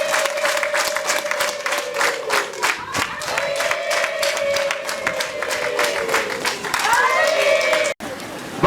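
A wedding crowd at a Rwandan bride-price ceremony bursts into sustained rhythmic clapping, while a high, wavering ululation rides over the applause almost the whole time, loud and close, with a sudden brief cut near the end.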